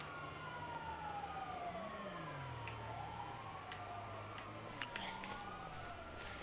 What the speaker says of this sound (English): I can hear an ambulance.